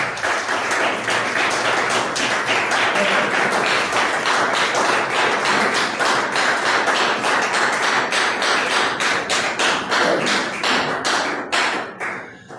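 A church congregation claps loudly and rhythmically during a worship service, many hands striking together in a fairly regular beat, close and strong throughout before trailing off into a few scattered claps at the end.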